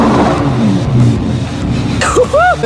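Lamborghini supercar engine revved hard with the brake held, a loud close roar swelling and cutting off, then people talking and laughing over it.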